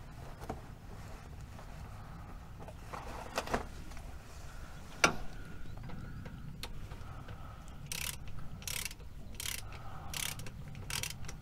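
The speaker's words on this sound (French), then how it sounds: "Donc on fait un premier serrage pour amener l'écrou en contact. Donc serrage cliquet normal." A ratchet wrench clicks as it snugs a nut on a piston connecting rod during engine reassembly, its short bursts of ratcheting sounding close and fairly quiet over a low background hum, with no talking.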